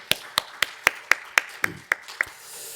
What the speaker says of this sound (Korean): 이게 한번 박수 한번 하십시다.